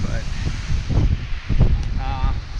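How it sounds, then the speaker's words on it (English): Gusty wind buffets the microphone in rumbling bursts beside a parked short bus in a driveway, with faint background rustling and a brief distant tonal sound near the end. "it's windy today. Sorry about the noise,"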